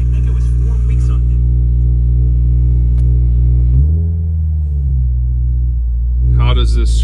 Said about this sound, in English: I literally just started the car. We're idling.